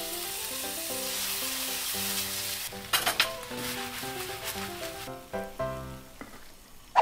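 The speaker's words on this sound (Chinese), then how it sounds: "还要特别挑出它的培根，然后先下去炒" Bacon from a Costco truffle white-sauce shrimp pasta kit fries in a pan with a steady sizzling hiss, a few stirring clatters, and background music playing over it.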